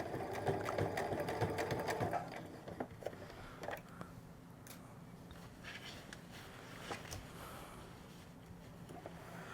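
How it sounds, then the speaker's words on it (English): Sewing machine stitching a lining into a simple A-line skirt, running steadily and loudly for the first two seconds, then slower, quieter stitching with short pauses and small handling clicks. "as you're sewing, again, just take your time, try to match this exact same sewing line"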